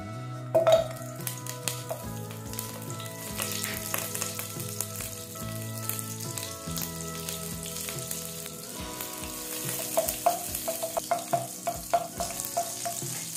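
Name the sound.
butter melting and sizzling in hot oil in a pan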